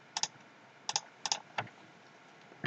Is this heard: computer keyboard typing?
yes